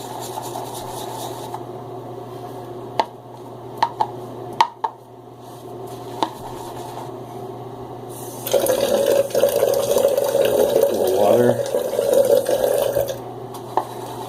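Water splashes and trickles into a shaving lather bowl, a few sharp clinks and stirs early, then a louder, steady splashing and swirling run near the end, close and alone without talk.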